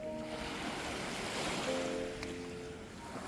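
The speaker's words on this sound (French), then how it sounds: "On entend les vagues." Ocean waves break below a sea cliff in Ibiza, a continuous rushing wash of surf heard from above, with wind buffeting the microphone throughout.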